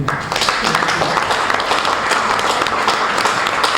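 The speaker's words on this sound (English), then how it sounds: "can we give another round of applause to the Honorable Commissioner" Audience applause following a commissioner's presentation at a Lagos state ministerial press briefing, a dense, steady wash of clapping sustained for the whole stretch at moderate loudness, with faint voices mixed in.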